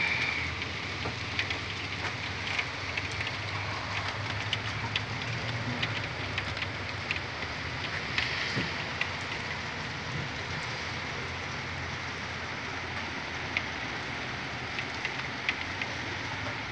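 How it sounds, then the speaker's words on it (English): Steady rain falls in a constant soft hiss, with occasional louder drips and patters rising above the wash. "Another rainy day."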